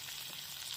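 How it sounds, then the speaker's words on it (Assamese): Onions sizzle and fry in hot oil in a wok over a gas flame, making a steady, dense crackling hiss that fills the whole brief moment with no talk. "এতিয়া ইয়াতে তেলখিনি দিয়া হৈছিলে গৰম হৈ গ'ল পিঁয়াজ দি দিছোঁ"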